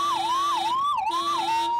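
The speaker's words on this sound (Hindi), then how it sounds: "एम्बुलेंस दिखता नहीं है आपको?" An ambulance siren wails loud and close, its tone sweeping up and down in a steady repeating cycle with no break, with no voices over it.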